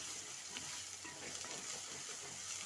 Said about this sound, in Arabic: غسلنا الخضار بتاعنا وهنقلب